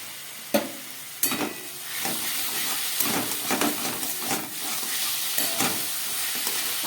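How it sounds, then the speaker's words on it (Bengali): Cauliflower and peas frying with other vegetables in a little oil over low heat, a steady sizzle broken by several sharp clanks and scrapes of stirring. "গ্যাসটা একেবারে লোতে রেখে সবজিগুলোকে ভেজে নিতে হবে। এবার আমি এর মধ্যে দিয়ে দিচ্ছি ফুলকপি আর মটরশুঁটি।"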